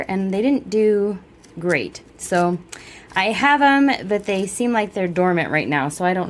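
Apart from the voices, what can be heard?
No distinct noise like a dog, phone or traffic.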